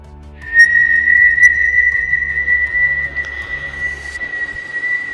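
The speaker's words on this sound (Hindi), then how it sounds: "उन्हें फिर से उसी सीटी का आवाज़ सुनाई दिया" A long, steady high-pitched whistle rises out of silence and holds for several seconds, loud and eerie over a low, rhythmic rumbling bed, setting a mysterious mood for a Hindi horror story about strange trees in a forest.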